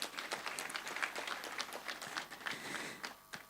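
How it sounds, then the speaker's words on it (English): Audience applause at a national science and technology council meeting sounds faint and distant, as a brief patter of scattered hand claps. "A round of applause please for him."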